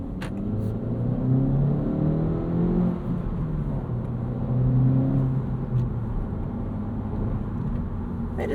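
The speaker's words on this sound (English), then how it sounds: "You kind of got to rev this thing out to get the most out of it." A 2025 Honda Civic Si with a 6-speed manual rumbles and revs in steady swells, the low drone rising and falling twice over a continuous motor hum, close and fairly loud.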